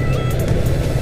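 A car passes on the road, heard from a rider on a motorbike as a loud, close engine and road rumble over steady wind noise.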